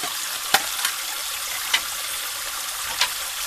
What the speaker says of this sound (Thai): ดูน้ำเลยเป็นเส้นเลยนะครับ